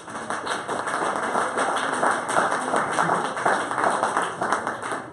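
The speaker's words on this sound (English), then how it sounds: "give yourselves a round of applause." Audience applause at a 2018 municipal election debate for a local ward, a steady, dense patter of many hands clapping that fills the room at moderate volume and holds evenly throughout, with no voice over it.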